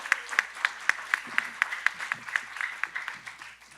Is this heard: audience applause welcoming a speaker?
yes